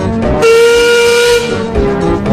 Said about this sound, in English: Petersam, Rusty, and Renes were waiting by the sheds when they heard Duncan's whistle